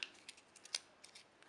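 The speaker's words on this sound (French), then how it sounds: "Tout de suite, je viens plier et froisser ma fleur" Paper flower being folded and crumpled by hand, a quiet series of short crisp rustles and crinkles with small gaps between them, close and faint.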